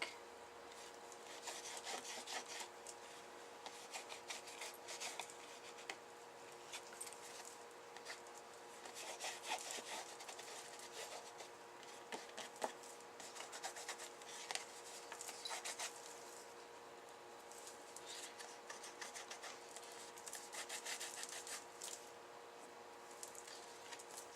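Colour paste is rubbed firmly across a surface in quiet, continuous, scratchy strokes that repeat steadily with no speech.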